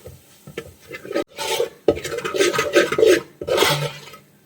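Spice powders for a fish curry are sautéed and stirred in a pan, with rough scraping strokes across the metal in uneven bursts separated by short pauses and no voices.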